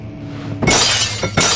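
Glass smashing in the horror game Amnesia: The Dark Descent, a sudden loud crash and shatter after a quiet moment, followed by a second sharp breaking burst near the end.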